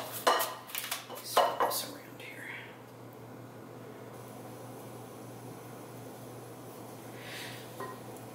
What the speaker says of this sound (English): I would rather spread it out with the spoon than the spatula